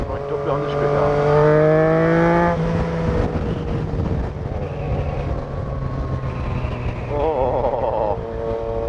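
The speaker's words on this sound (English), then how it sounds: "Just keep revving and listening to your bike, popping and farting" A Yamaha MT-09 Tracer motorcycle revs loudly and steadily up close, its engine note rising and falling in several strong pulls, with crackly exhaust pops mixed in.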